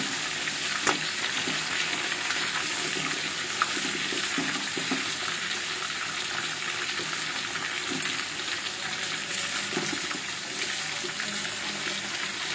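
Food frying in a pan at a home Eid beef cooking session, a dense continuous hiss and crackle held close and steady throughout, with a couple of faint clicks and no talk.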